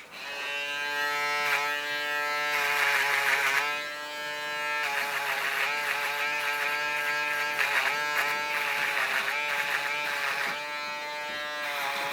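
A foil shaver buzzes steadily and close during a blended, disconnected haircut. Its pitch shifts slightly as it moves over the hair, and it runs continuously without speech.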